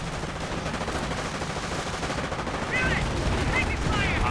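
Mortar rounds and gunfire in a World War II real-time strategy match, a dense continuous rattle of shots and distant blasts with faint game chatter layered over it.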